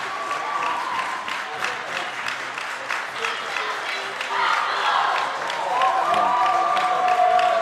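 A crowd applauds and cheers after a game-winning goal at a Winter Beach Ultimate match, dense clapping that swells louder toward the end, with a commentator talking over it.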